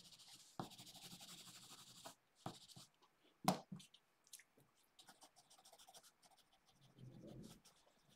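A pencil scratches across paper while sketching a squirrel, with quiet irregular strokes and short scribbling bursts separated by pauses, close and faint with no speech.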